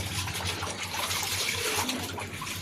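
Steady flow of running water, a continuous splashing trickle with a low hum underneath, heard alone without talk during a family dinner gathering.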